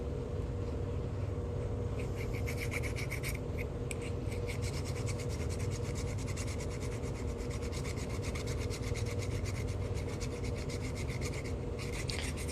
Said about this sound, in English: I think I'm going to keep filing away at it.